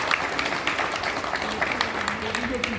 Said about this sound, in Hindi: सभी पेरेंट्स के लिए ताली बजाइए जिनके बच्चे फर्स्ट सेकंड थर्ड आएंगे